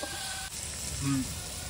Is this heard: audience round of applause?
no